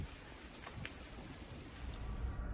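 Steady rain falls at a campsite at night, a dense, even hiss of drops on surfaces with no voices.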